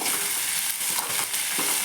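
Onion and tomato with curry leaves sizzle steadily in a hot pan, a close, continuous hiss with a few soft stirring scrapes and no voices.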